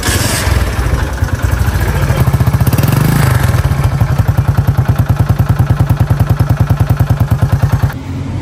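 A restored motorcycle engine with loose tappets runs steadily, its rapid, even clatter of ticking beats loud and close throughout, with no talk over it.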